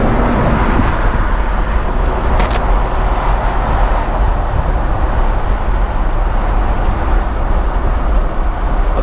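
A 1992 BMW 325i E30 convertible drives along the road, its engine and tire roar a steady, loud broadband rumble with heavy wind noise throughout, a brief sharper click near the middle.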